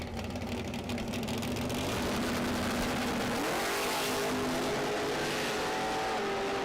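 A lightweight Ford Pinto drag racing street car launches at a motorsports park during a street nationals event, its loud engine droning steadily then rising in pitch as it accelerates away, with continuous track noise throughout.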